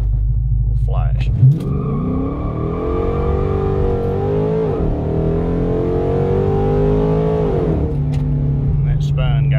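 A 2008 Dodge Charger R/T engine with a 3200 stall converter roars and revs hard through a launch, rear tires spinning on cold pavement, rising in pitch, then a shift to second drops it before it climbs again, loud and close.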